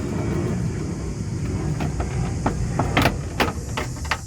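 Screws are driven into the plastic rear wheel well liner of a 2015-2020 Ford F-150, giving short whirring bursts and sharp clicks of a driver over a steady low background hum, with louder bursts near the end.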